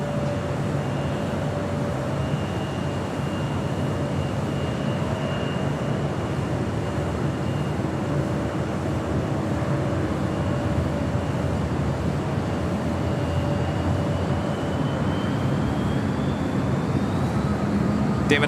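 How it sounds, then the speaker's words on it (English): A LATAM Airlines Boeing 787-9 Dreamliner on flight 603 to Santiago rumbles at Los Angeles airport, a steady distant jet roar with a faint rising whine, heard alongside low airport ambience. "this is LATAM Airlines Flight 603 heading to Santiago. 787-9 Dreamliner."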